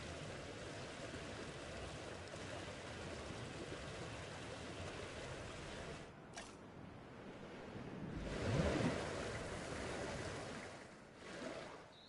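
Water lapping in the game Jurassic World Evolution 2, a soft continuous wash with faint swells and a brief dip midway, quiet and without voices.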